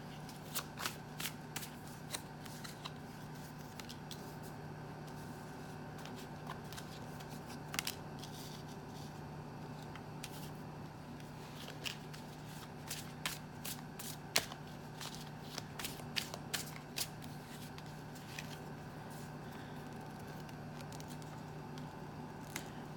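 Tarot cards are shuffled and laid out for a general Capricorn reading, giving a run of crisp, close card flicks and snaps in quick clusters over a steady low hum, fairly quiet, with no talking.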